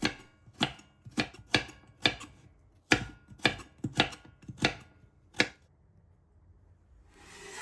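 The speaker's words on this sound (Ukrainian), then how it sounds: "Нарізаємо моркву кільцями. після чого ріжемо соломкою." Knife cutting carrot slices into strips on a board, about a dozen crisp close chops in an uneven rhythm, each a sharp knock, then a pause before a soft rustle at the end.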